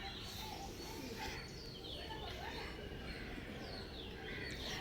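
Pigeons feeding in a morning flock give soft, repeated coos and scattered chirps over a steady outdoor wash, with faint wing flutters now and then.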